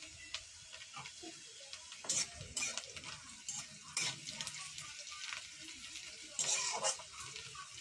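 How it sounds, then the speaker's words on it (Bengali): Ground spices, sugar and ginger-garlic paste fry in a pan, a soft low sizzle broken by repeated scraping stirs and light utensil clatter, fairly quiet and close. "গুঁড়ো লঙ্কা, টমেটো বাটা দিয়ে মশলাটাকে ভালো করে একটু কষিয়ে নিচ্ছি"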